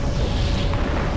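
A pizzeria blows up in Garry's Mod in a loud, sustained, rumbling blast that fills the whole stretch with deep booming noise.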